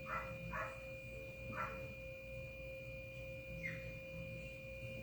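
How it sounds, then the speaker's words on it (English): A distant dog gives a few scattered barks over a steady electrical hum and low background noise, faint and spaced apart. "That dog is screaming."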